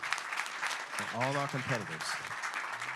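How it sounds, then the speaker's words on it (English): Audience applause at a university business plan competition, a steady dense wash of clapping throughout with a voice briefly speaking over it in the middle. "One more round of applause, please."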